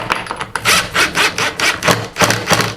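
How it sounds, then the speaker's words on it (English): A screw being driven into a wall with a screw gun while mounting a towel bar cleat, heard as a close, loud series of bursts of grinding, rasping driving noise with short pauses between them, and no talking. "take your screw gun, or you can do this with a regular hand screwdriver and screw it to the wall"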